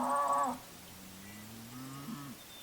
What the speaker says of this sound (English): I'm hearing some crazy cow sounds coming from over in this direction